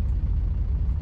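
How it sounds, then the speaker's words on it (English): A short, heavy low rumble of a truck engine as the truck hits a car in the video game 18 Wheels of Steel: American Long Haul, steady and loud, with no distinct impact standing out. "I just hit a car"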